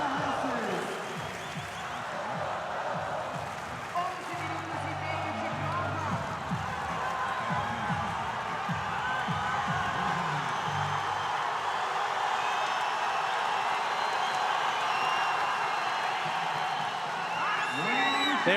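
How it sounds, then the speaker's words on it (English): An arena crowd at a regional CrossFit-style competition, the 2018 Latin America Regional men's event, roars and chants for an athlete with rhythmic clapping and whoops, while an announcer talks over the steady din. "This place is erupting, chanting for Pablo Chalfoun."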